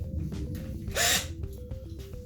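Power drill boring a pilot hole in a wooden carpentry piece, a faint, short whirring run with a brief louder burst of high-speed spinning in the middle.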